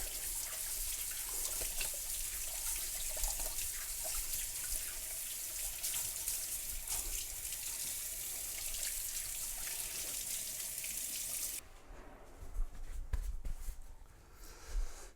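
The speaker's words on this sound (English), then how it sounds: "So using warm water, you wash the hands, right, keep them warm" Warm water runs steadily from a tap over hands being washed at a sink, a continuous close rush that stops abruptly near the end, leaving quieter handling sounds.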